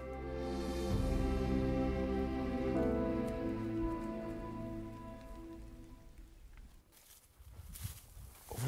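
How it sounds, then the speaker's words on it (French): Steady rain patters on surfaces in Kruger National Park, loud and continuous, gradually thinning toward the end with scattered drips. "La pluie a enchanté les clients de Bernard."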